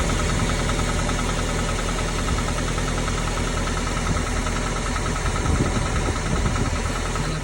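Car engine running with noisy valves, played back from a recording: a steady loud idle with a continuous ticking, knocking texture throughout, without voices.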